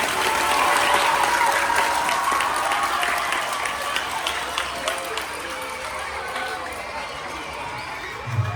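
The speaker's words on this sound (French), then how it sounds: "Applaudissez très fort pour le Seigneur." Congregation applause at a thanksgiving mass in a school chapel, a dense, steady wash of many hands clapping throughout, loud and close, with crowd noise and voices mixed underneath.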